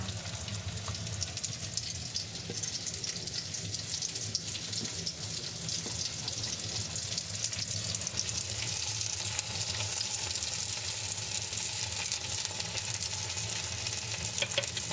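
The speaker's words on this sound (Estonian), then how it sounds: "Magusad pelmeeni me praeme panni peal." Sweet pelmeni fry in a pan with a steady, continuous sizzle and crackle that carries on evenly throughout, with no talking.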